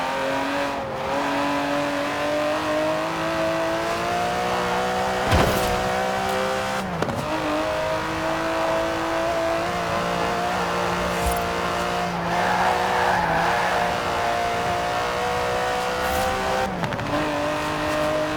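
An Aston Martin DB11's 5.2-litre twin-turbo V12, driven in the Forza Horizon 4 racing game, revs and shifts with a steady rising engine note, broken by brief gear-change dips and tyre chirps, loud and continuous.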